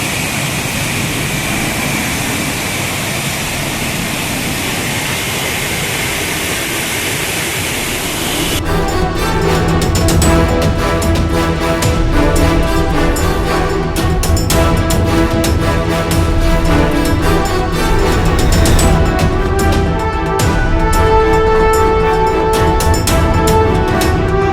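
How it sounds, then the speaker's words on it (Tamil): Courtallam main waterfall, swollen after heavy rain, pours over its safety railings as a steady, loud, hissing roar, and music takes over partway through. "குற்றாலம் மெயின் அருவியிலும் 5 அருவியிலும் பாதுகாப்பு கம்பிகளை தாண்டி தண்ணீர் கொட்டியது"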